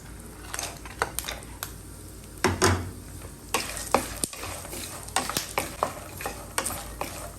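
Almonds and cashews roast in a hot pan for aval mixture, with a soft sizzle under repeated scraping and rattling strokes of a spoon stirring them, close by and without talk.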